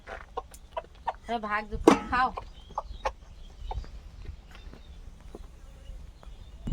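Chickens clucking close by in a rural Sundarbans yard, short repeated clucks and calls mixed with someone talking and intermittent clatter.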